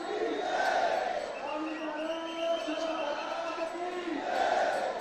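Pilgrims at Pandharpur chanting Vitthal's name in a large crowd, a drawn-out sung chant carried by many voices, moderately distant and swelling again toward the end.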